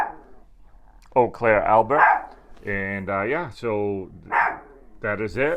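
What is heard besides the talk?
dog barking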